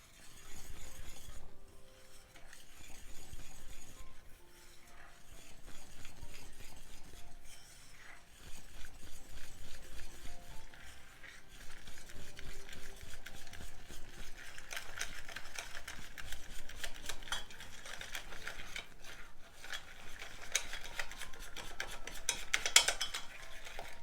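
A whisk stirs a dry mixture into eggs for Napoleon cake custard cream in a bowl, a continuous rapid clinking and scraping rhythm, moderately close, with no talk.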